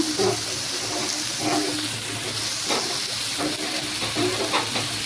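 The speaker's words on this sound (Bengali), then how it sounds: "আর মা এই পাশ দিয়ে যে টমেটো ভাজতেছে ভর্তা করার জন্য" Tomatoes frying in a pan for Bengali tomato bhorta, a continuous loud sizzle and hiss with soft bursts of stirring scraping through it.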